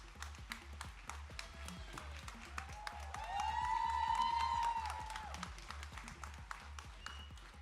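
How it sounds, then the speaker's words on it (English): An audience applauding former presidents at a KEA Rajatotsav felicitation event, fairly faint scattered clapping and crowd noise with a low rhythmic hum, a tonal voice or sound swelling briefly midway. "Ladies and gentlemen, let's once again give them a loud round of applause."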